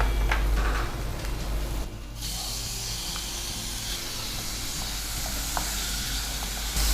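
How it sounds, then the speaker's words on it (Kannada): Onion and tomato frying in oil, a steady close sizzle and hiss throughout, with faint clinks of stirring. "ಉಪ್ಪು ಹಾಕಿದರೆ ಸ್ವಲ್ಪ ಬೇಗ ಫ್ರೈ ಆಗ್ತದೆ ನೀರುಳ್ಳಿ."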